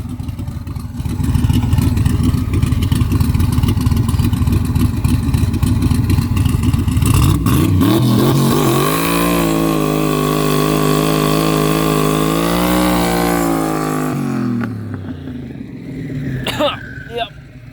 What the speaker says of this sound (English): Yep, that was a good burnout.